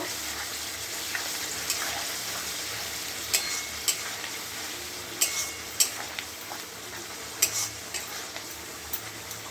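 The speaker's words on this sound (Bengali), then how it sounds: "বাটনাটা দিয়ে দিয়েছি, এবার ভালো করে কষে নেব।" Masala paste for mutton sautés in a pan under a steady, hissing sizzle, punctuated by sharp metallic scrapes and clinks of a spatula stirring at irregular intervals, close and without talk.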